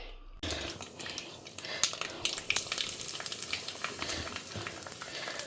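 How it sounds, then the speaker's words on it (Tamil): Mustard seeds and urad dal tempering in hot coconut oil give a busy, close frying sizzle studded with quick crackling pops and stirring clatter that run steadily from start to end without talk. "கடுகு உளுத்தம்பருப்பு தாளித்து கொட்ட வேண்டிதான் இதுக்கு நான் இப்போ இதை தேங்காய் எண்ணெயில் வறுத்துட்டுருக்கேன்"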